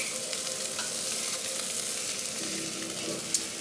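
Omelet frying in a pan, a steady broadband sizzle that holds for several seconds with faint stirring scrapes and one brief sharp tick near the end.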